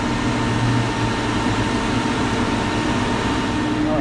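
An HVAC refrigerant recovery machine runs continuously while pulling refrigerant from a walk-in cooler, giving a steady mechanical hum and whir at even loudness throughout.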